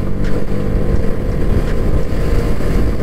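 A TVS Apache RR 310 motorcycle exhaust gives a steady, loud, low rumble throughout. It sounds like riding at speed, with wind buffeting mixed in and no talk.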